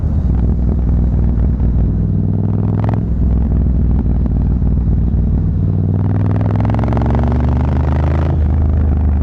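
A Triumph Scrambler 900 motorcycle rides along with a loud, continuous low engine drone and rumble, shifting pitch as it accelerates, heard up close against steady wind noise.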